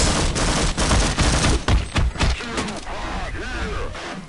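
Tank cannons firing in Half-Life, a dense run of loud, booming shots and rapid bursts overlapping in quick succession, with a couple of sharp impacts and a faint voice at moments.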